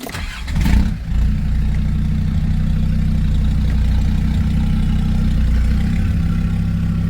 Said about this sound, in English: let's fire the tractor up.